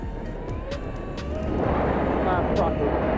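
A Raptur H650 sea-land-air RC plane powers up for takeoff in an open field, its small electric motor whine rising and getting louder partway through, continuous and fairly close with outdoor wind noise.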